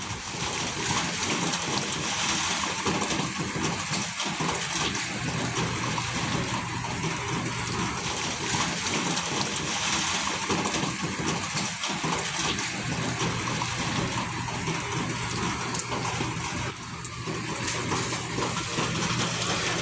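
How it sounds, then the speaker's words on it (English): Heavy rain pours steadily, a dense, continuous hiss that stays loud and even, with no talk. "And when I say I love the rain, I love listening to it"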